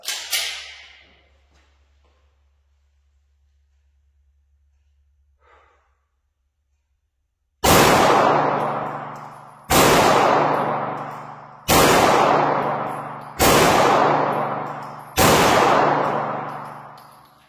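Five loud, close pistol shots from a 15-round-magazine handgun ring out at roughly two-second intervals, each with a booming indoor decay, after a quiet stretch with faint handling sounds.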